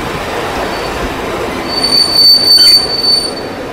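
A Mumbai suburban local train runs loudly nearby, its rumble swelling as a high, piercing wheel squeal rings out for a couple of seconds.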